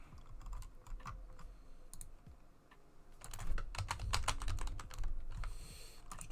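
Rapid clattering keystrokes on a computer keyboard, close and fairly quiet, coming in irregular bursts with a brief lull before a denser, louder flurry of typing.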